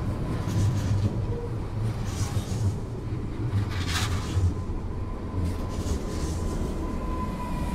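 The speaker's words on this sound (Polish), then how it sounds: "Impuls Newag do Radomia Głównego." A Newag Impuls train bound for Radom Główny rumbles past at a station in Warsaw, a loud continuous rolling drone with rhythmic wheel clatter and brief higher hisses throughout.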